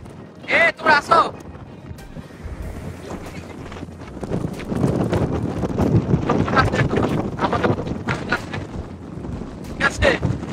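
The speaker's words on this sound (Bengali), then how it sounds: "বাতাস দাঁড়া থাকা যায় না।" Strong wind roars and buffets the microphone at a Cox's Bazar beach, gusting loud for several seconds, with people talking in short bursts at the start and end.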